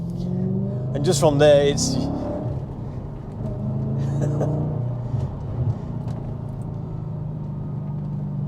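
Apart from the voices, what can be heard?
Audi RS4 B7 4.2 V8 exhaust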